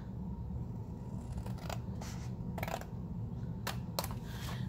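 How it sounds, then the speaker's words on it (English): Scissors make several quiet, crisp snips as they cut into a folded milk carton for an Easter shaker craft. The snips come in irregular short bursts over a soft background hum, with no talking. "Then I'm gonna take my scissors"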